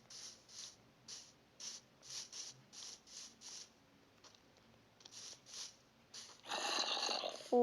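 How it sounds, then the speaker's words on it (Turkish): Low rasping groans from a Minecraft PE zombie repeat in a slow, steady rhythm, faint and breathy, ending in a louder rough drone. "Zombi sesi."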